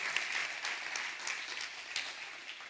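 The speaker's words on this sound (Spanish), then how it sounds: "Si va a aplaudirle a Dios, hágalo duro" A church congregation claps for God during a sermon, a fairly quiet, steady wash of many hands with a few sharper claps standing out, no talking over it.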